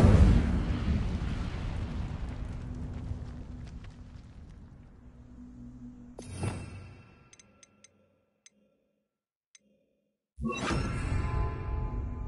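A fire spell, Incendio, cast in a Hogwarts wizarding video game: a loud roaring burst that fades over several seconds, a sharp flare around the middle, near-silence with faint ticks, then another abrupt fiery blast.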